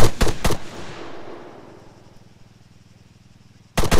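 Gunfire in Arma 3 Altis Life cracks out in sharp, loud close shots, a couple at the start and another burst at the end, with a fading rumbling echo between them.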